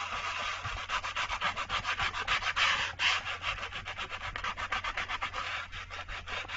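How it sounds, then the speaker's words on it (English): Close, loud wood sanding for pyrography work: a steady run of rapid back-and-forth rubbing strokes on a board, rasping continuously with no voices. "So I gotta do a little sanding."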